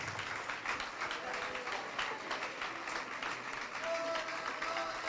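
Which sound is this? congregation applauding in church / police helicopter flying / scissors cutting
congregation applauding in church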